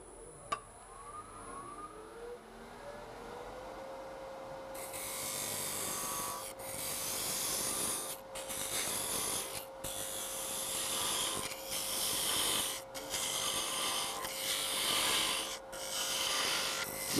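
A parting tool cuts into wood on a lathe while a pencil box is being made, producing a steady raspy hiss that comes in long strokes with short breaks, no talking.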